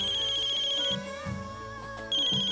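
A phone ringtone chirps in a steady high repeating pattern for an incoming call, pausing briefly midway while low background music plays, then resuming.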